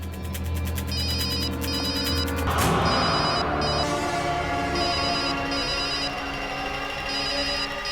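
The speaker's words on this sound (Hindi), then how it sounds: "फोन की आवाज तो यहीं कहीं से आ रही है।" A phone rings in repeated electronic bursts, steady and fairly close, with a brief rumbling clatter in the middle and no talking.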